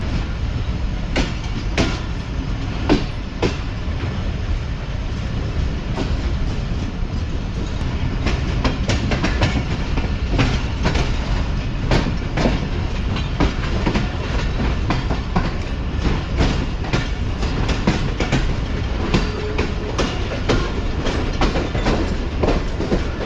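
Clickety-clack of the Karachi Express running on its tracks out of a junction in winter: a loud, continuous rumble with frequent sharp rhythmic wheel clicks over rail joints.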